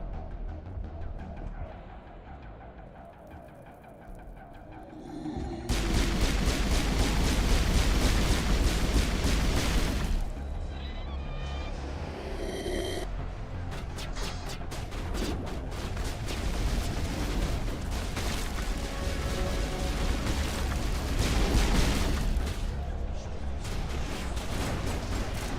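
Heavy grenade blasts and gunfire in a Mass Effect Legendary firefight, a deep booming explosion followed by sustained rumbling battle noise and overlapping shots, loud and close.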